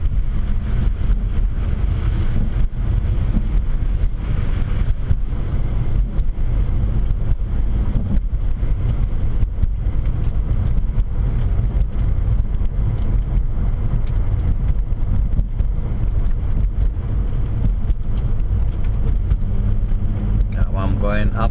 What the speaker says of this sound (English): so you can hear the engine.